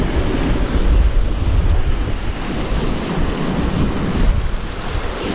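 Strong wind howls across a lake on a winter bass-fishing outing, roaring and buffeting the microphone continuously alongside the wash of choppy waves, with no talking.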